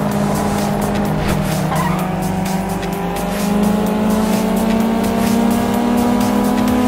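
Loud, continuous tire squealing and skidding from a car with a droning engine note underneath, sustained and close for several seconds without pause.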